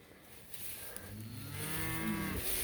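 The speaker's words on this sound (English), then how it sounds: "Look at that little heifer. She's just a beaut. There's a nice young cow, first calf heifer." Cattle mooing on a cattle drive, heifers and cows, one long drawn-out low moo swelling and rising, fairly close, over faint outdoor background noise.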